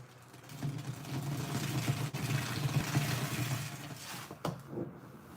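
A sponge being rinsed under running water: a close, continuous rush and splash of water with squishy handling noises and a couple of brief knocks near the end, no talking.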